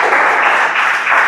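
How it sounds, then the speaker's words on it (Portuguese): A church congregation claps in praise during a worship service, a brief, loud, dense burst of many hands clapping together with no talking. "louva o Senhor com as palmas bem alegres para Jesus"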